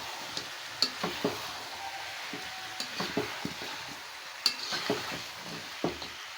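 Onion fries in oil in a pan for a spicy broiler chicken curry, with a faint sizzle beneath repeated scraping clinks of a spatula stirring against the pan at irregular intervals.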